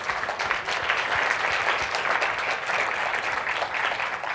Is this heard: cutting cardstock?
no